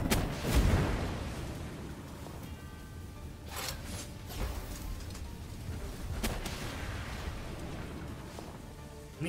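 A legendary single-shot rifle fires in the video game Palworld, giving a few sharp, widely spaced shots over a low, rumbling game background at modest volume.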